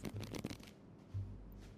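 A deck of playing cards is shuffled quietly during a tabletop card game, with a quick riffle of fluttering clicks followed by a short pause and a second softer burst, heard faintly up close.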